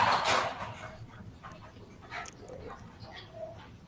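A small elderly Shih Tzu gives a few soft, brief barks and whimpers, fairly faint and at middle distance, amid quiet background noise.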